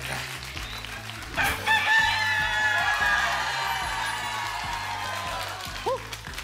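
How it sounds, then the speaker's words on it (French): A rooster crows once in a long, loud call over a busy studio backdrop of steady rhythmic music on a French television egg-picking game show. "Le coq a chanté, vous savez ce que ça veut dire."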